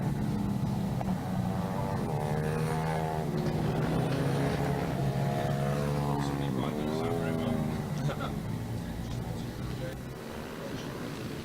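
Stock 140 class pit bikes race on a track, their engines buzzing and droning beneath a commentator's continuous talk and fading slightly toward the end.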